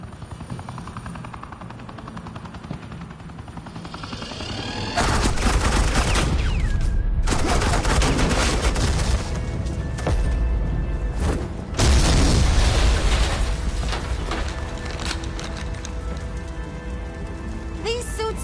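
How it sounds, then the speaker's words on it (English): Suppressing gunfire and explosions from the Batman Telltale game roar in a dense, loud, continuous barrage, with heavier booming surges partway through. "This is Agent Quinn, suppressing fire."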